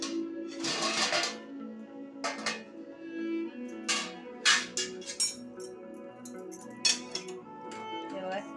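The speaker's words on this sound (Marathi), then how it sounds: "झाकण उघडून घेते" A metal lid comes off a pot of sheera cooked in ghee on the stove, giving a series of sharp clinks and clatters spaced irregularly. Soft background music plays beneath.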